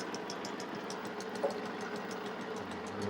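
An aircraft engine idles slowly at 400 RPM after a magneto overhaul, a steady close mechanical drone with a faint rhythmic knock throughout and no talk.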